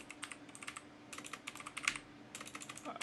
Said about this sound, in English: If I can type here, /awesome.